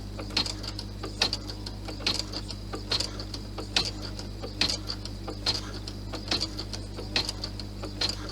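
A sewing machine runs slowly over a seam on a Santa bag, giving a steady series of distinct mechanical clicks and thumps about once per second over a low motor hum, close and fairly quiet.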